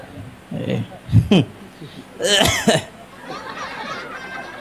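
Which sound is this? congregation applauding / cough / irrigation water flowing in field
cough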